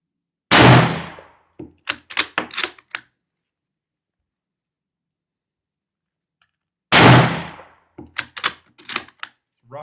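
Two loud, sharp shots from a Yugoslavian M48 Mauser rifle at an outdoor range, several seconds apart, each followed by quick mechanical clacks of the bolt being worked.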